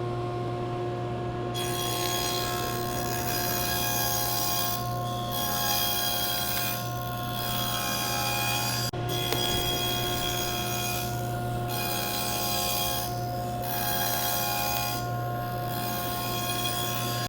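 Steady rhythmic rasping of a saw cutting dadoes into wooden cabinet panels, repeating strokes over a continuous motor hum, close and fairly even throughout with no voices.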